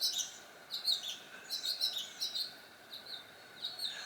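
Small birds near a nest chirp in quick, high, repeated tweets. The calls come steadily in short bursts, fairly close but soft, over a quiet outdoor background with no talking.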